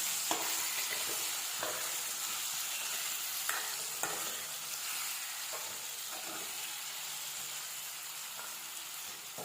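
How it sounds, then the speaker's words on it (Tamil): Tomato and ground masala sauté in a pan, a soft continuous sizzle broken by several scraping stirs of a spatula, fairly quiet and close, with no one talking. "அதோட நம்ம அரைச்சி விட்டு மசாலாவையும் அதை போட்டுருந்தோம் போட்டு ரெண்டையும் நல்லா வதக்கிடுவோம்"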